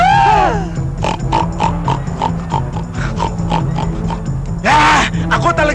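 A pig grunts and oinks in repeated short bursts, loud and close, with a louder squeal near the end, overlapping lively talk from several people in a comedic scene.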